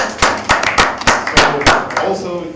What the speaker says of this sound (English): I think they deserve a big round of applause for their commitment.